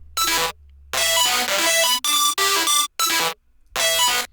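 Thick layered detuned synth leads for an EDM drop, playing loud chopped chords in short bursts separated by brief gaps, with a low bass drone under the opening phrase.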